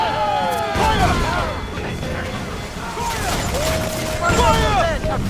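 Ship cannons fire in a naval battle in Assassin's Creed Freedom Cry, heavy booms and crashes arriving in bursts amid a busy mix of shouting crew voices, whistling and tonal game sounds.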